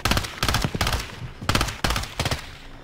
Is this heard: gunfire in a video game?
yes